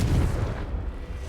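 The Confringo spell explodes in the video game Hogwarts Legacy as a short, deep, rumbling boom close by that fades within about a second.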